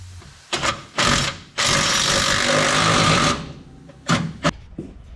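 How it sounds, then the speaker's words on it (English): A power tool, likely an impact wrench, tightens nuts on new Moroso solid motor mounts, with short bursts followed by a longer sustained rattling run and then a couple more quick bursts, close and loud. "All we gotta do is tighten up the nuts and put the through bolt back in."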